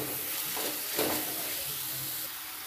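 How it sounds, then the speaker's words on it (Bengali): Potato snack ingredients with onion and capsicum stirred in a hot pan, giving a steady close sizzle and hiss with faint scraping of the spoon, no talking. "এবার সব উপকরণ খুব ভালো করে নেড়ে চেড়ে নেব।"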